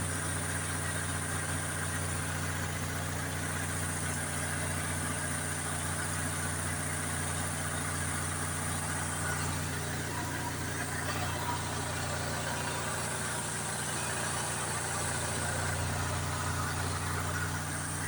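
A 4 kW Onan generator engine runs steadily, a continuous droning hum with no pauses or changes in speed.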